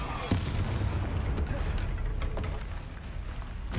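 Bombarda blasting spell in Hogwarts Legacy, a loud booming explosion with a sharp crack near the start, followed by rumbling blasts and sustained low roar throughout.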